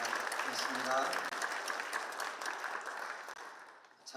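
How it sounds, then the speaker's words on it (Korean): Audience applause at a church ceremony installing a new denominational general assembly president, a broad steady wash of clapping that gradually thins, with a voice briefly heard over it. "다시 한번 축사해 주신 모든 분들에게 우리 감사의 박수 한번 올려드리도록 하겠습니다"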